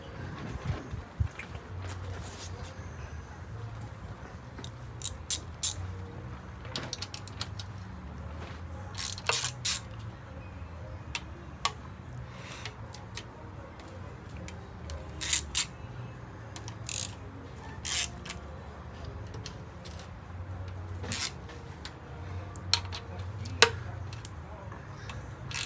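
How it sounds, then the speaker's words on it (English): Oil pan bolts being loosened and removed from a Honda Del Sol EG2 engine block during a teardown: scattered sharp metallic ticks and clinks from tools and bolts, close and irregular, over a low background rumble for about 25 seconds. "I am going to start removing the oil pan bolts so I can pull the oil pan off"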